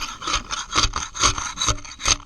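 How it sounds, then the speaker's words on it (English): A scraper rasps repeatedly across a boat hull, grinding off half-inch to three-quarter-inch barnacles in a steady series of loud, close strokes about every half second. "Give it an initial scrape there"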